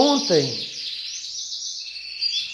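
Canary chirping indoors near its cage: a short warbling trill at the start, followed by a sustained high, thin whistling note that wavers and rises slightly, close and fairly loud.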